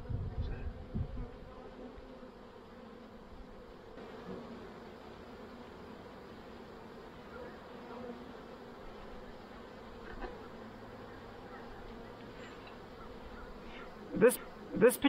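Honey bees humming in an open hive as a late-summer split is inspected, a steady soft buzz throughout with a couple of sharp knocks near the end and no talk.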